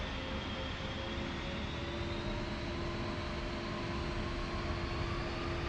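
Steady, continuous engine drone of an aircraft taxiing toward the runway in a flight simulator game, with a constant whine layered over broadband rumble, unbroken and fairly loud throughout with no talk.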